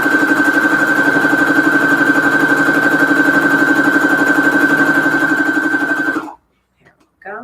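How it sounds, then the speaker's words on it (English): A sewing machine stitches a fabric scrap onto a strip with a loud, steady, fast mechanical whir that runs for about six seconds, then stops abruptly and leaves a short quiet tail. "Now we sew this on the strip."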